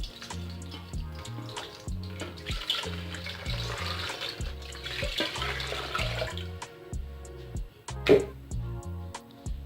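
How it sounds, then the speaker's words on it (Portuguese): Warm water being poured into a bowl for homemade bread dough, a steady splashing pour running for several seconds under a rhythmic tonal pattern, with one louder splash near the end. "Agora vamos colocar a água. 750 ml de água morna, não quente"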